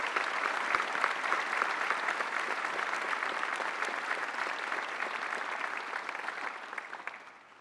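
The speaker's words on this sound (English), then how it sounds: "Please join me in a round of applause for our family and colleagues." Sustained audience applause at a presidential awards ceremony, a steady dense wash of clapping that holds evenly for several seconds and then begins to thin out toward the end.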